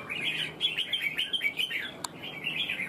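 A red-whiskered bulbul sings a run of bright, warbling chirps and trills, fairly close and continuous, with one sharp click partway through and no voices.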